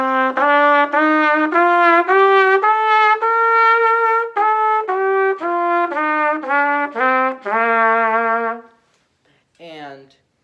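A trumpet plays a steady scale of distinct sustained notes stepping up and back down, loud and close, ending with a brief fading note after a short pause.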